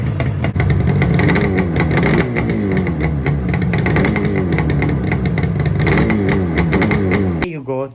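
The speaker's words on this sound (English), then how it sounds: "Let's give it a quick rev." A restored Yamaha RD 350 two-stroke motorcycle burbles loud and close, its revs rising and falling in a quick blip before cutting off near the end.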